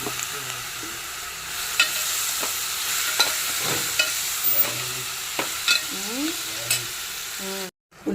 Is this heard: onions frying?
yes